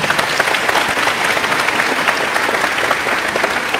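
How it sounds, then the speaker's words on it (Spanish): Dense, loud applause rolls from a church audience during a debate between a priest and pastors, a steady wash of clapping with no pauses. "Aplauso para los dos hermanos."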